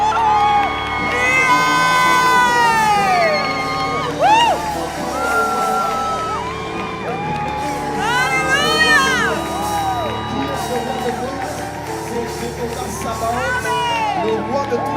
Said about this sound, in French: Acclamons très fort pour le roi de gloire.